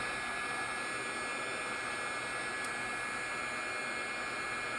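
A heat embossing tool blows hot air from the back of a crafting piece during a cracked glass embossing project, a steady, fairly quiet hiss held unbroken throughout.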